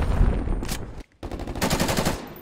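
A LAPA submachine gun fires in Black Ops Cold War multiplayer as loud, rapid bursts of gunfire close up. A brief gap breaks the bursts before another sustained burst.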